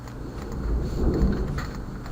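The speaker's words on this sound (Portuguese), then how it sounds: "Nossa, tô trovejando aqui em casa." Thunder at home, heard from indoors: a low, rolling rumble that swells toward the middle and then fades, steady and moderately loud with no talking.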